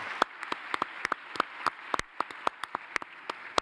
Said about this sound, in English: Please do give yourselves a round of applause.